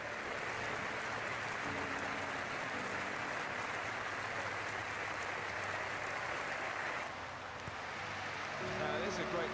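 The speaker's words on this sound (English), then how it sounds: "This fan-led minutes applause, certainly not just the Manchester United fans, all of the Liverpool fans right the way around Anfield." A stadium crowd at Anfield applauding during a football match, a continuous loud wash of clapping from all around that holds steady, with a faint voice entering near the end.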